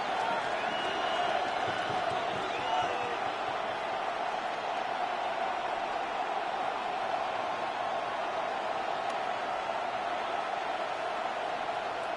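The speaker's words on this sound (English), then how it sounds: "this crowd's going to get even louder" A dense football stadium crowd roars steadily at a Dallas versus Cardinals game during a third-and-goal play, a sustained broad wash of cheering with no distinct claps standing out.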